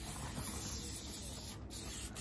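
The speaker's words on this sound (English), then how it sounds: "to clean the roof, we were using an alcohol-based disinfectant spray" Alcohol-based disinfectant spray misted onto the roof of a BMW M240i, a steady close hiss running about two seconds with a brief break near the end.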